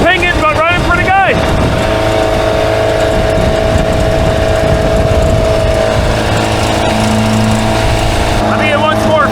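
An old Baretta boat's outboard-style engine runs steadily and loud with a slight pinging, its droning hum continuous throughout while voices talk over it.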